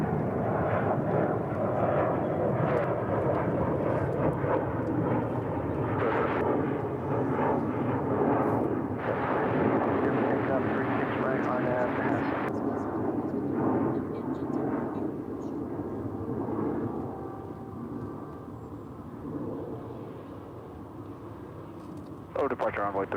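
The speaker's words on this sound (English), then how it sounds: "757 started her taxi here." A 35-year-old Boeing 757 airliner taxiing at Dallas/Fort Worth airport, a continuous broad engine roar that holds steady and eases off toward the end, heard under talk.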